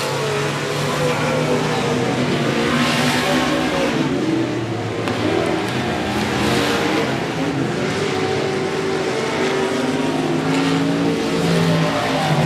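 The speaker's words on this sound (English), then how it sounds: "McNorton and Collins side by side. Great battle for the second place spot. This is what we call racing" Race cars roar around a short speedway track during a regular race program, a dense, continuous engine drone with rising and falling revs as several cars battle side by side.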